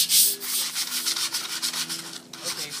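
120-grit sandpaper scrubs over a metal table in brisk, uneven strokes, a close, gritty rubbing with a slight ringing tone underneath.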